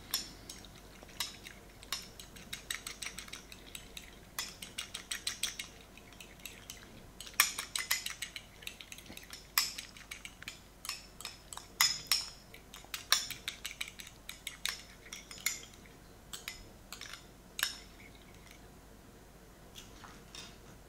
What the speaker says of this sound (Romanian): Punem un gălbenuș de ou cu lapte, amestecăm bine